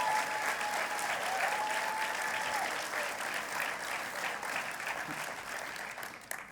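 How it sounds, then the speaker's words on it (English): Sustained applause from an audience at a teaching and leadership awards gala, steady and even throughout with a slight fade toward the end, heard on its own without talk. "So big round of applause to her."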